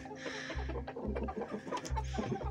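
A hen clucks inside a snowy winter chicken coop with roosters, giving soft, rapid, close clucks in short repeated bursts with low thumping between them, and no voices.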